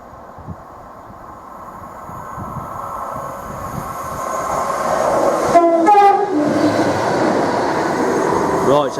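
A Class 170 diesel multiple unit passes through a station at speed, its roar swelling and growing louder, with a horn sounding midway and rail noise continuing to the end.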